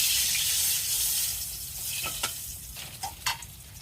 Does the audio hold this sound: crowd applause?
no